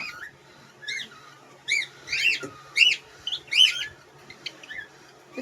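A semi-adult female cockatiel gives a series of sharp, bright chirping calls, about eight of them in irregular bursts, close by over a quiet room.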